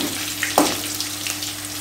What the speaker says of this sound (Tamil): இப்போது இந்த பச்சை மிளகாவை சேர்த்துருவோம்